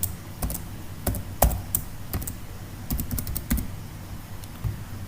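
Close, crisp keystrokes come from a computer keyboard as a mobile number and password are entered, falling in short irregular clusters of taps with brief pauses between them.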